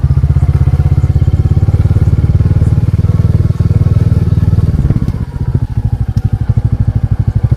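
A motorcycle engine runs steadily and loudly on a Gujarat village road, with a rhythmic low throb that slows toward the end as if easing off or idling.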